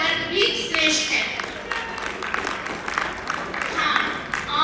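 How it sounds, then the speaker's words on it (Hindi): An audience at a Hindi school debate claps together, a dense burst of hand clapping that runs the whole stretch at a steady level, with voices mixed into the crowd. "एक बार आप तालियां बजाइए"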